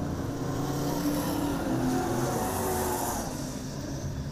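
AMCA Nationals race cars at Lismore Speedway roar into turn three late in the A-Main, giving a loud, sustained engine drone with rising and falling tones as cars pass close by.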